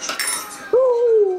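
A quick metallic clatter of spoons hitting a hard floor, followed by a sustained ringing tone as they settle.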